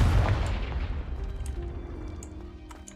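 A Confringo explosion spell in the Hogwarts Legacy video game bursts with a heavy boom at the outset, then rumbles and crackles as it slowly fades, with faint high clinks scattered through the tail.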